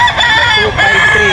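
A rooster at a poultry market in Grotto, Bulacan, crows loudly and close, one full drawn-out cock-a-doodle-doo that fills the moment.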